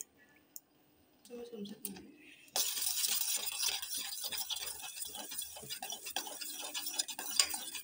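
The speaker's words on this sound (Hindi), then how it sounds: "इसको बढ़िया से मिलाते हुए इसको अच्छे से पका लेंगे" Spoon scraping and clicking against a pan while stirring a sweet mixture of milk, sugar and milk powder for a paneer dessert, rapid and continuous after a quiet start, with a voice talking.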